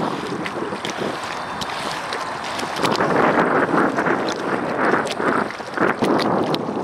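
Radio-controlled robot boat driven by onboard motors on open water, heard amid gusty wind buffeting the microphone and splashing water, with louder sloshing surges in the second half.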